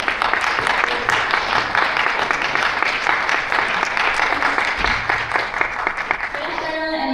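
Audience applause welcoming Noriko Nishi of Sony's product planning team at an Alpha 7 Mark V hands-on event, a dense, steady roomful of clapping that holds loud throughout before thinning slightly at the end.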